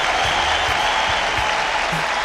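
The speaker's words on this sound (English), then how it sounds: "Hand clap to you guys" Sustained clapping, like a round of applause, closes out a live tech talk show stream; it is a steady, even wash of claps with a few low thumps and no voices.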